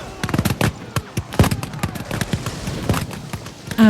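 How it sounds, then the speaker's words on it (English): Battle gunfire and cannon fire: a rapid volley of sharp cracks in irregular bursts with heavier booms mixed in, loud and close, clustering then thinning before a final burst. "The air fills with the crack of gunfire, the pound of cannon, and the screams of the wounded, dead, and ravaged."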